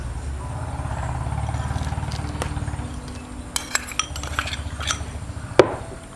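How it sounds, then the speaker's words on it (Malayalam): A spoon stirring ground ginger chutney with salt in a bowl, soft scraping followed by sharper clinks and taps against the dish, close and alone without talk. "നന്നായിട്ടൊന്ന് മിക്സ് ചെയ്തെടുക്കാം."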